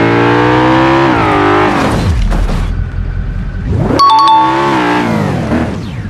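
A BMW in BeamNG.drive roars loudly as its engine revs up through rising gear pulls, drops off, then climbs again in a second strong acceleration, with no talk over it.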